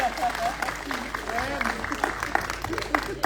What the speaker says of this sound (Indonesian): Tepuk tangan dong Mas Erwin.